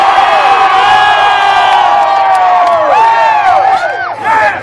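Loud, close crowd cheering and whooping at a Mac Lethal rap show in Pittsburgh, a sustained roar of many voices with rising and falling yells that thins slightly toward the end.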